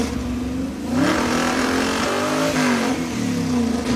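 An engine on stock ignition wiring runs with its coil cut off, misfiring and breaking up: a loud, close, continuous roar with uneven, stuttering surges in pitch.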